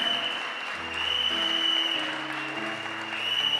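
Audience applause at a Christian sermon, a steady wash of clapping that swells and holds throughout, with sustained keyboard or organ tones underneath.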